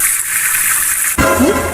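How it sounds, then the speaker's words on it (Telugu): Water gushes inside a bathroom, first a steady close rush, then an abrupt louder surge of running water partway through, heard alone without voices. "బాత్రూమ్ లో వాటర్ లీక్ అవుతున్నాయి ఏంటి?"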